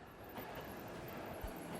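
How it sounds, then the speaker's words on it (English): Train pulling into a station in the video game 13 Sentinels Aegis Rim, a steady broadband rumble of rolling wagons with a brief low thump near the end, continuous and fairly loud with no talking. "The train's already here."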